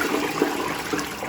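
A toilet flushing in a built-in cistern fitted with a Harpic Flushmatic block, a steady rush of water at close range with a couple of small surges, heard alone.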